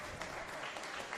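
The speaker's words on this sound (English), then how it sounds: "It's a round of applause for his first half effort, the brace." Spectators at a Sydney United 58 FC versus Western Sydney Wanderers NPL men's football match applaud a substituted player, a steady, distant wash of clapping with no talk over it.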